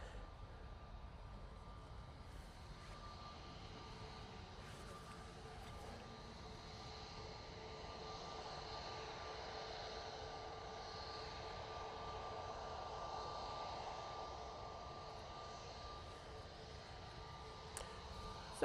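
An SAS airliner bound for Copenhagen takes off at Manchester Airport, its engines a distant, steady roar that builds slightly over nearly twenty seconds, heard alone without talk.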